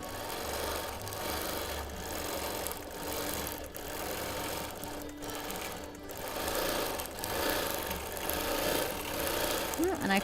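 Sewing machine free motion quilting a Christmas table runner, a continuous close mechanical whir with steady needle chatter that rises and eases in speed, while a person talks over it.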